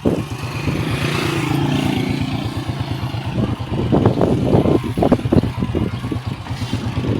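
A motorcycle engine idles with a steady throbbing pulse, then revs a little with rattling, close and loud, on a new road in Angeles City, Pampanga.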